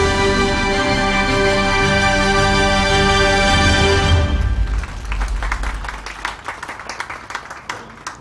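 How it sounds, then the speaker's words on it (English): An audience at a scientific merit awards ceremony applauds loudly after music that ends around the middle, the clapping building into a dense, steady burst of many hands. "I hope that means you can hear the applause."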